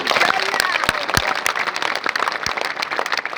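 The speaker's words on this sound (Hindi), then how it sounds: "हाथ उठाओ और बजा दो ताली।" A crowd at a political rally in Jaunpur, India claps in scattered, uneven bursts, sharp hand claps mixed with a general murmur of people nearby.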